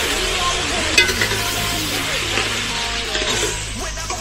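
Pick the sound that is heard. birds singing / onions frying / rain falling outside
onions frying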